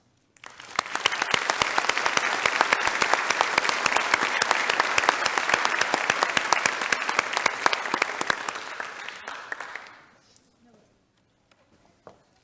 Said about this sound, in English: if we could just give all of our awardees a big round of applause